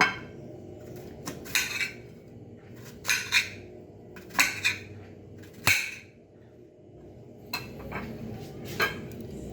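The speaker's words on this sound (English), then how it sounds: "The next step is cut our bananas in pieces, in 2, 3, or 5 pieces to can fry" A kitchen knife chops green bananas into pieces for patacones, sounding as a handful of sharp, close clicks and thuds against a board or dish, spaced irregularly over a low room hum.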